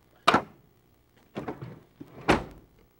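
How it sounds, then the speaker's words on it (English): The sliding side door of a 2001 Dodge Caravan minivan is worked at close range, making three separate solid clunks with a brief rolling slide between them in an otherwise quiet setting. "Your minivan has a sliding door on the driver's side, either power or manually operated"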